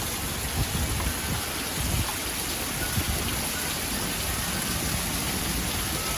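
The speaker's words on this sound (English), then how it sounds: "we're getting a good rain" Steady, dense rain pours down, a continuous hiss of drops hitting surfaces with occasional heavier patters.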